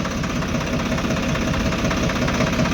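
A tractor engine out in a farm field, heading off to dig pits, chugs with a steady, loud, close rumble and a knocking throb that carries evenly through the whole stretch.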